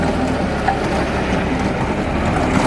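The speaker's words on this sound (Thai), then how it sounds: "มาชมรถแท็กเตอร์โลโว นะครับปั่นโรตารี่เพื่อปลูกอ้อย" Lovol 90 hp tractor running a rotary tiller in a field being prepared for sugarcane, engine held near 1,500 rpm in low fifth gear, a steady close broadband drone and rumble without pause.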